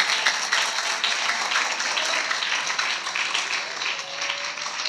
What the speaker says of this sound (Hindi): से ताली बजा के प्रभु के नाम की स्तुति करें।